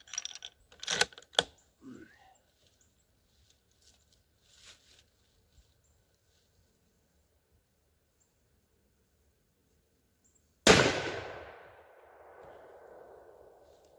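A single loud rifle shot fired at a target while zeroing an Element Optics Titan 5-25x56 FFP scope, with a ringing decay, preceded by faint clicks and handling noises.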